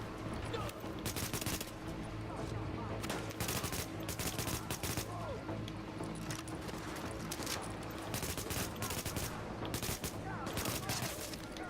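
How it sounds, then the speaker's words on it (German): Sustained gunfire in the video game The Division, dense rapid shots firing almost continuously throughout, with players talking over it. "Ich schieße einfach von oben runter."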